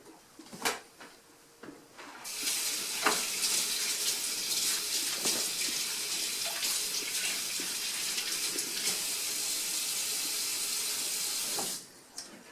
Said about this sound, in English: So let me wash my hands and let's get started.